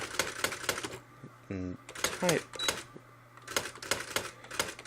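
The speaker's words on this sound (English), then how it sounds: "Got my new typewriter." Brother electronic typewriter typing in quick rhythmic strike bursts, with a short whirring carriage movement in the middle, close and fairly loud, with a low steady hum underneath.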